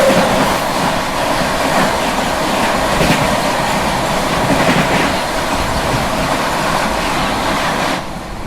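The Swarna Jayanti Express rolls past on its run, overtaking the Amritsar Express waiting on a loop line near Pachora Junction; a loud, steady rumble of wheels on rails with rhythmic clatter, easing off at the end.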